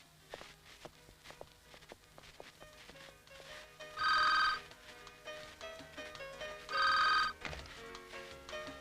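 Two bursts of an old-style telephone bell ringing, each about half a second long and a few seconds apart, loud over a quiet room with faint footsteps and movement, before anyone answers.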